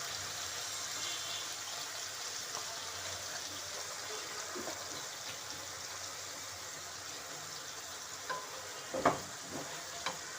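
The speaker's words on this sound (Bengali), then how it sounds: "এইভাবে আমি তেজপাতাটাকে ভেজে" Bay leaves fry in a small amount of oil in a pan, giving a soft, steady sizzle with occasional stirring scrapes and a few clicks toward the end, fairly quiet and close.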